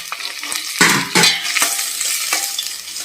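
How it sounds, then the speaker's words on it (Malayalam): Sliced onions tossed into a pan over low flame with ginger and chopped green chilli, sizzling and crackling loudly with repeated stirring scrapes in uneven bursts; no talking. "ഇതിലേക്ക് നമുക്ക് സ്ലൈസ് ചെയ്തിരിക്കുന്ന സബോള അങ്ങോട്ട്"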